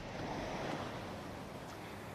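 Ocean water surges and breaks against the base of a coastal bluff during a storm, a continuous broad wash of surf noise mixed with wind buffeting, steady and fairly loud.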